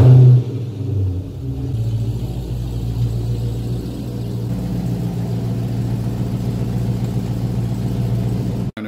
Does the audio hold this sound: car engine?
yes